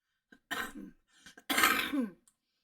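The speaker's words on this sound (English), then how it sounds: "Still got a little bit of a cough." A man coughs and clears his throat in two rough, close bursts, the second longer and harsher, with quiet pauses around them.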